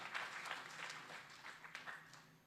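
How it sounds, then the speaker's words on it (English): Applause from a conference audience for a guest of honor, a steady patter of many hands at moderate level that tapers toward the end. "Give a big round of applause for our guest of honor"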